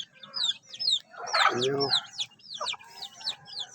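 Hens cluck repeatedly and a rooster calls loudly near the middle, a busy barnyard chorus close by, with a brief spoken word.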